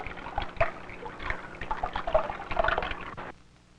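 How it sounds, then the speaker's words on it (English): Water moving and splashing, heard as a close, continuous irregular trickle and patter of small splashes and drips that swells and then cuts off abruptly near the end. "When water moves, you hear a splashing sound."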